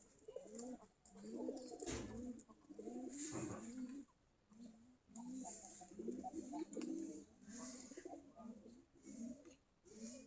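Giribaz pigeons, a Bangladeshi deshi flying breed kept loose, coo repeatedly in low rolling phrases through the whole stretch, close and steady, with faint bird chirps above and no talk.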